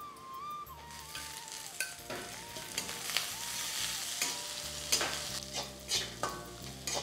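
Onions fried until reddish, then boiled cluster beans added and stirred in a pan, giving a steady close sizzle with repeated scraping and stirring strokes throughout, no voices.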